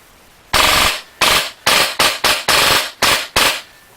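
Polarstar F1 airsoft M4 firing in full auto, heard as seven loud, sharp bursts of rapid shots in quick succession, each lasting a fraction of a second, with brief silent gaps between them.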